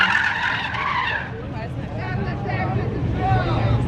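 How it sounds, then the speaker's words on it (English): An Infiniti Q50 does a burnout at a drag strip, tires skidding and squealing loudly and steadily over engine roar, close by, with people talking over it. "Do a burnout, bro."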